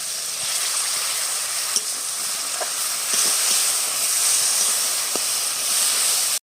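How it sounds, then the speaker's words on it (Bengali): Spice paste with ginger and garlic frying in a pan after a splash of water, giving a steady close hiss and sizzle throughout with a few faint clicks, no talking. "জল দিয়ে একটু কষে নেবো মশলাটা"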